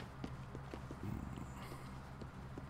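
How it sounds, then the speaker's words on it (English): Horse hooves in Red Dead Redemption 2 clop in a soft, steady walking rhythm of several distinct hoof falls, faint and close against low background game ambience. "Stupid horse."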